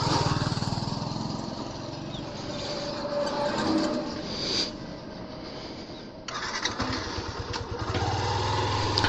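A motorbike runs along a road in Jhenaidah, its engine droning steadily with shifting pitch and wind rush, loud and close throughout, dipping briefly before picking up again.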